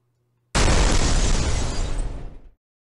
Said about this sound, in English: You couldn't get a better near-cathartic explosion simulator in the 2000s.